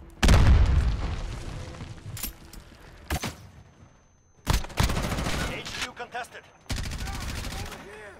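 Call of Duty: Modern Warfare online multiplayer gunfire, loud bursts of automatic fire and booming shots in several separate volleys with short quiet gaps between them.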